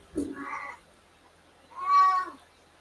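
A cat meows twice, a short low call followed after a pause by a longer, louder drawn-out meow, close by in a quiet room.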